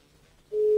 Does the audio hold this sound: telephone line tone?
yes